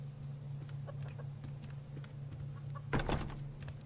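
Chickens clucking in the survival game Subsistence, with soft scattered clucks at a distance over a steady low hum, then a louder flurry of clucking and flapping near the end.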